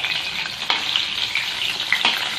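Chicken lollipop pieces fry in hot oil in a home kitchen, giving a loud, steady, close sizzle with small crackling pops throughout.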